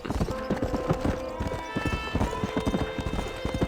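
Horse hooves clip-clop steadily and close in Red Dead Redemption gameplay on PC, a busy galloping rhythm with game ambience underneath and no voices.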